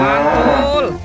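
A toy cow gives one loud, drawn-out moo lasting about a second, falling in pitch at the end, close and clear.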